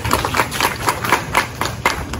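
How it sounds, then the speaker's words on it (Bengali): Applause at a Rabindra Jayanti celebration at Kokrajhar Government College: a crowd claps quickly and fairly steadily, loud and close, for a couple of seconds. "জোরে হাততালি।"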